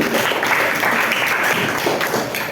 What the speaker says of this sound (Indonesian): beri tepuk tangan untuk 3 dan 1